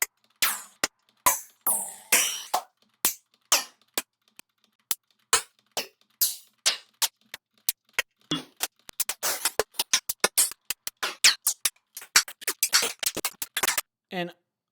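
Sound-designed hi-hat hits from an electronic effects chain, a rapid irregular stream of crisp, bright ticks and short noisy bursts that grow denser and more erratic toward the end, fairly quiet and with no talking.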